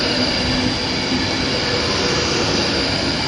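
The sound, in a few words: Pacer train coupled to a class 156 at Wigan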